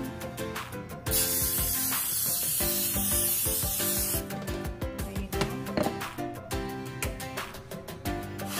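A burst of palm oil cooking spray lasts about three seconds, a loud airy hiss over background music in a home kitchen where fresh spinach lumpia is being made.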